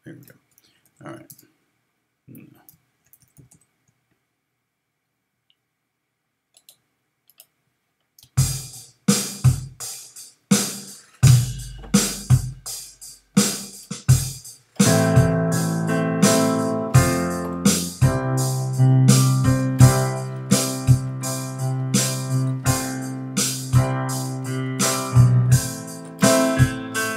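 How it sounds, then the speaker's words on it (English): A simple drum pattern starts after a quiet opening, steady evenly spaced hits, then a guitar joins in over the beat for a full, loud groove. "Simple sound, simple drum pattern."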